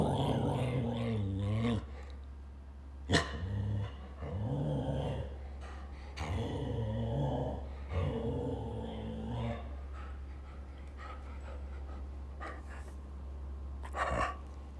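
A dog growls and barks in reaction to a person barking at it, sharp close barks and rough growls in short bursts separated by pauses over a steady low hum, with some human voice mixed in.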